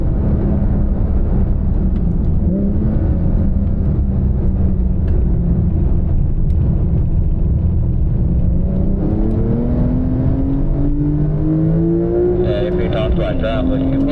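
Porsche cars lapping a race track on the racing line, engine drone and rising revs continuous throughout, with a passing whine near the end, under steady talk.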